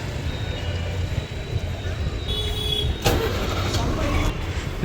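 Busy traffic at the large Vijayapura bus stand in Karnataka, with steady engine rumble from arriving and idling buses, a louder passing vehicle surge midway, and people talking in the background.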